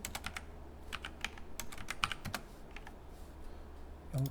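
Keys on a computer keyboard are pressed for Blender shortcuts in a quiet room, a scattered run of about a dozen crisp, close taps with uneven rhythm and brief pauses between them.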